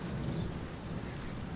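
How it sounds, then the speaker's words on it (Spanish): Rain begins to fall outdoors, a steady, soft wash of dense patter with a low rumble beneath, constant and fairly faint throughout with no voices. "Está empezando a llover."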